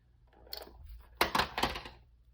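Scissors snipping through paper for a scrapbook layout, a few faint light cuts followed by a quick cluster of sharper, closer snips, with no talking.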